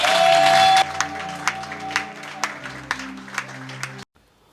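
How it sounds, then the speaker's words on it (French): Applause from a congregation at a French-speaking church service in praise of Jesus, opening with a dense burst of clapping over music, then settling into scattered rhythmic claps that carry on before stopping abruptly. "Acclame Jésus"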